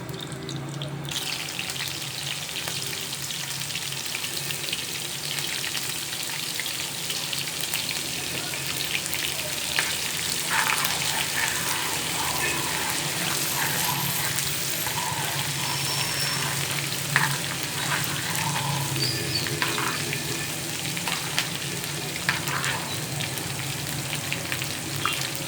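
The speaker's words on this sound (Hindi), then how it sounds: "अब लगाते हैं साग को तड़का।" Grated ginger tempering (tadka) for saag sizzles in hot oil, a steady broadband crackle and hiss that runs continuously and close throughout with no talk.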